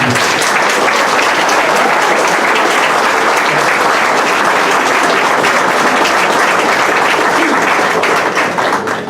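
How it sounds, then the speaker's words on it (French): A large crowd applauds loudly and continuously, a thick wash of clapping that holds steady before starting to fade at the end. "On fait un gros applaudissement pour Cécile."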